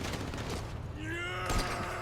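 Gunfire from a sniper rifle in GTA V rings out in a game scene, a single sharp shot with a short ringing tail in the quieter middle of the clip.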